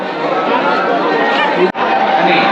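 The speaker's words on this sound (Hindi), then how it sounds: "और लोगों की भीड़ ही देखिए आपको" Dense chatter of a large crowd of pilgrims outside Tirupati's Tirumala temple, many overlapping voices close by forming a constant murmur, with one brief dip near the end.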